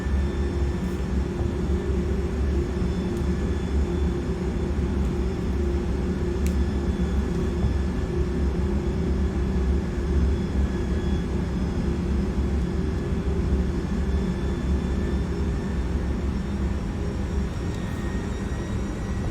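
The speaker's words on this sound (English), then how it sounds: "Flaps 15. Let's see how long they're going to take to extend." Cockpit ambience in the iniBuilds A300 flight simulator as the flaps extend to 15: a steady, loud airliner engine and airflow drone with faint tonal whines, continuous and unchanging throughout, no voices.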